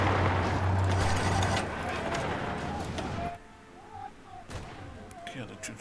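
Cannon artillery fire in Paris in a revolutionary-era video game: dense, loud booming and crackling gunfire over hooves for a few seconds, then quieter scattered shots with voices in the background.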